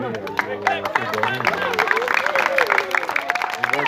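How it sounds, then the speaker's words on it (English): Scattered clapping from onlookers at an outdoor cricket coach's memorial medal presentation, mixed under lively crowd chatter and nearby talking voices. "They clap now."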